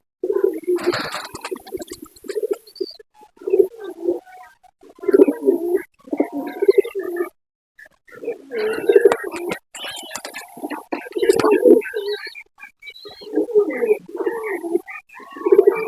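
Pigeons coo repeatedly in short rolling bursts, fairly close, with brief pauses between calls and occasional fluttery noises.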